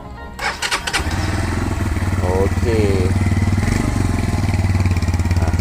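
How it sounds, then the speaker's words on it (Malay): A 2021 Brixton Sunray 150 cafe racer motorcycle starts up with a brief crank and settles into a steady, close, loud single-cylinder idle, with a brief word spoken over it. "Simple je motor cafe racer ni"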